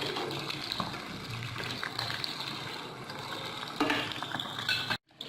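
Masala fish frying in a pan on a medium flame, a continuous hissing sizzle of hot oil with brief crackling swells, close up, ending abruptly.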